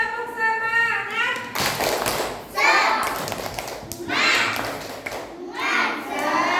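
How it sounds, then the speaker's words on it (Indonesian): A group of children chants the "tepuk semangat" clapping routine in a classroom, voices rising and falling in rhythmic bursts with soft hand claps and thumps mixed in, close and lively. "Oke, selanjutnya coba tepuk semangat."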